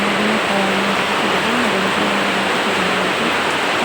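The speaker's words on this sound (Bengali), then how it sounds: "প্রচণ্ড বৃষ্টি" Heavy rain pours down in a dense, constant hiss that stays loud throughout, with a faint tonal hum running underneath.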